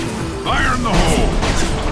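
A grenade explodes in the video game Mass Effect 2: a sudden broadband crash and rumble that swells and lingers for over a second, mixed with game voices and effects.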